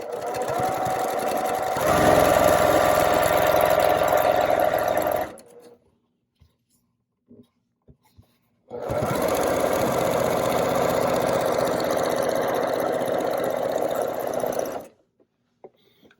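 A sewing machine stitching quilt pieces with backstitching runs in two long, loud, steady whirring bursts separated by a few seconds of near silence with small clicks, close to the listener and without talk.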